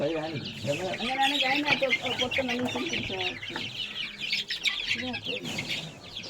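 Chickens feeding cluck and chatter close by in a busy, continuous flock, with a person talking over them.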